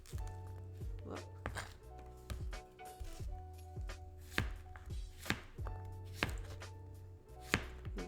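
Knife chopping zucchini into slices on a cutting board, a run of sharp close thunks at an irregular, fairly quick pace.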